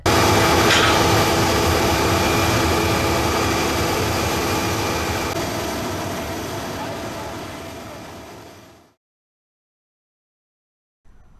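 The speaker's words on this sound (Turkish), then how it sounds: "Pakistan Başbakanı'nın danışanı çadırları taşıyan uçakla birlikte geldi." Airplane carrying relief tents arriving at Adana Airport, a steady broadband jet engine roar that stays loud for about nine seconds before cutting off abruptly.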